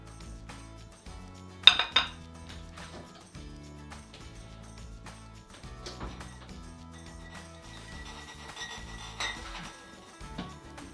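Warmed glass canning jars clink and knock together a few times in a kitchen, one sharper clatter early and lighter taps later, over a low background hum.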